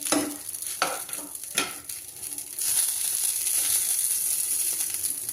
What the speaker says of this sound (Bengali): সুন্দর করে বেগুন ও বড়িগুলোকে ভেজে নিলাম।